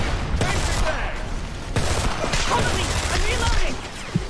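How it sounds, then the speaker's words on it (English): Rapid gunfire from the Homefront video game keeps up as a dense, loud barrage the whole time, with a voice talking over part of it. "I missed all those shots."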